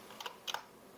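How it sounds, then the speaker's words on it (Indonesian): A few light, quiet clicks of arrow keys tapped on a computer keyboard, in short pairs spaced apart over a faint background hiss. "Kalau susah ngerapiinnya tinggal pakai panah di keyboard aja."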